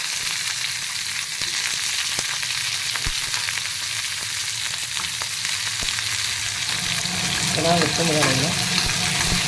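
Green chillies fry in hot oil in a pan for a Karnataka-style spicy green tomato chutney, a steady broad sizzle with clinks of stirring throughout and a brief spoken remark near the end.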